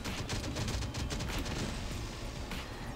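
Rapid gunfire from a turret and weapons during a base fight in the video game Last Day on Earth, dense and continuous throughout, with no speech over it.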